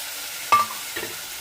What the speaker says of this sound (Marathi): मस्त तडका फोडणी झालेली आहे